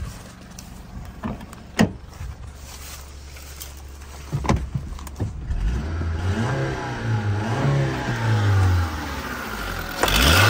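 A Honda Civic 1.7 with automatic transmission starts with a few sharp clunks, then its engine rises into repeated revs that swell and fall, close and fairly loud.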